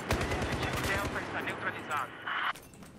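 Rapid gunfire from a Battlefield 1 match crackles in quick bursts, machine-gun style volleys that thin out into scattered shots and fade, moderately loud with a distant battlefield feel and no clear talk.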